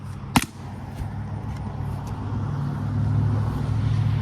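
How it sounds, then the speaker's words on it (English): Steady road traffic on a once-dirt country road rumbles low and continuous, swelling slightly toward the end, with one sharp click early on and no talking. "Oh, the traffic, Nick."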